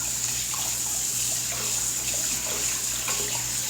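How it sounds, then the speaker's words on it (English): Tap water running over a hand at a kitchen sink, a steady close splashing hiss with soft sputters, continuous and alone. "I'm rinsing my hand anyway."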